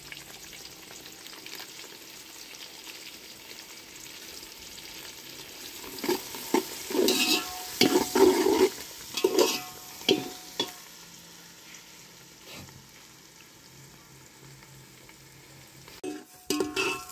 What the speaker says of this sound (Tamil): வெங்காயம் பாருங்க அப்படியே கோல்டன் ப்ரௌனில் வந்துருச்சா